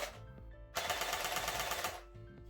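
An Academy SCAR electric airsoft gun with blowback, upgraded with a bolt catch and run on an 11.1V battery, firing one brief full-auto burst of rapid, close mechanical clatter between quieter motor hum.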